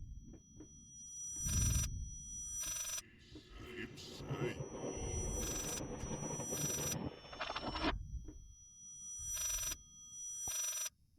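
An old-style telephone bell ringing in the psychological horror game Layers of Fear, repeated bright rings in separate bursts over dark ambient rumble, with someone talking between and under the rings.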